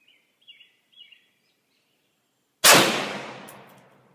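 One loud, sharp gunshot from an FN 5.7 pistol firing a hot load cracks outdoors after a few faint bird chirps, then its echo rolls away and fades slowly.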